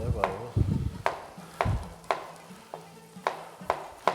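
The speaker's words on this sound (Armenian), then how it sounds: "Վարունգը նույնպես կտրատում ենք" Knife chops cucumber into sticks on a board, about nine crisp, evenly spaced strokes, close and fairly loud, with faint low thumps early on and no talking.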